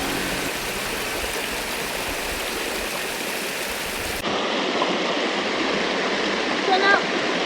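Steady broadband rushing of water flowing at Ikogosi spring in Nigeria, close and continuous, with the texture shifting partway through.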